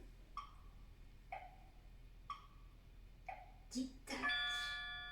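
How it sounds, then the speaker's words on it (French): Clock ticking in a quiet house at night, four soft, evenly spaced ticks about a second apart, faint against a low background hum, ending with a brief bell-like chime. "tic-tac"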